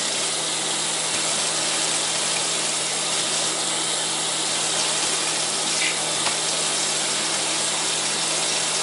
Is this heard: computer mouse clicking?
no